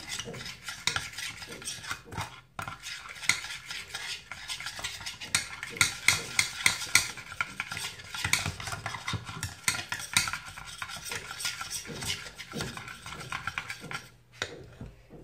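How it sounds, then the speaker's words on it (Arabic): Spices for fish, with garlic and salt, being stirred in a cooking pot: a steady run of scraping and clinking utensil strokes against the metal, close and continuous, with a faint sizzle underneath and no talking. "غنحرك مزيان"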